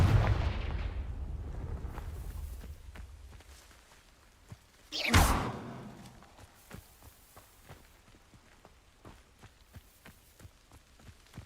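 A Confringo fire spell blast in the wizarding game Hogwarts Legacy: one loud, sudden burst near the middle that fades with a rushing tail, set among quieter thuds and footsteps.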